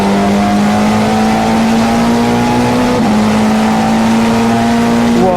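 A Nissan Super Touring race car engine drones loud and steady, holding a constant pitch close by with only a slight wobble partway through.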